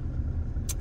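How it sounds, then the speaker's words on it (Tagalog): Car engines and road noise fill a congested intersection with a steady low rumble, close and fairly loud, and a brief brighter swish near the end, with no voices. "grabe ang traffic dito sa may intersection"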